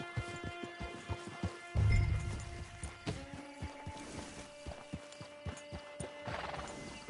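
Steady clip-clop of horse hooves at a walking pace in Red Dead Redemption 2, with a horse whinny and a brief thud partway through, over a light ambient background.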